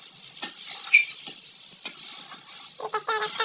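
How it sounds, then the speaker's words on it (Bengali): Green peas being sautéed and stirred in a kadai for a paneer and pea ghugni, with soft sizzling under a few sharp spoon scrapes and clinks, and a busier burst of stirring near the end. "আর এপাশে মটরটা কষানো চলছে।"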